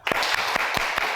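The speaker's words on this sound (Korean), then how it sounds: "우리 박수 한번 쳐줍시다." A church congregation applauding, a dense burst of many hands clapping together, close and lively, lasting about a second.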